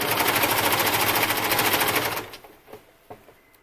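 Sewing machine top stitching elastic onto stretchy swimsuit fabric, a rapid even mechanical rattle running for about two seconds before stopping, followed by a few soft clicks.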